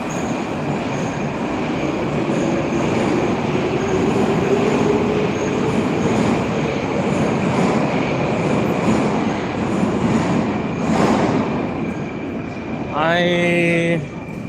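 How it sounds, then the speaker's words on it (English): A Moscow metro train rumbles along steadily from inside the carriage, a loud continuous roar with faint rail squeal, ending in a brief rising tonal chime near the end. "We're just going around the subway."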